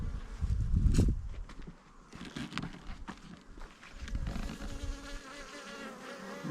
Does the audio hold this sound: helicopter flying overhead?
no